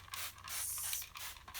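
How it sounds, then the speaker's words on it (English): Cleaner is sprayed from a trigger spray bottle in a few quick hissing bursts, close and soft, with brief pauses between pumps and no talk. "what I'm gonna do is I just completely spray all"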